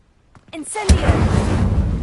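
Incendio fire spell cast in a video game: a short voiced cry, then a sudden booming burst of flame that roars on loudly to the end.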